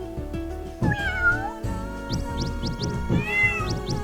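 Cartoonish cats meowing repeatedly in the game Tasty Planet, several close overlapping meows and squeaky cries over busy game music and effects, with no speech.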